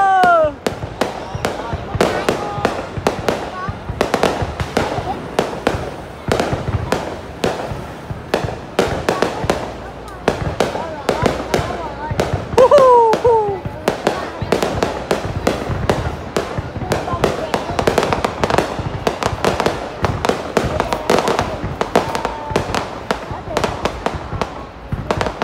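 A Lunar New Year fireworks display at Binh Duong New City in 2023 crackles and booms continuously from close range, with dense rapid bursts and occasional whistling rockets, while a crowd cheers and talks underneath.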